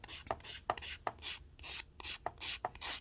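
A nail file rasps across a fingernail in short, repeated one-directional strokes, about three per second, close and quiet, while prepping nails for press-ons.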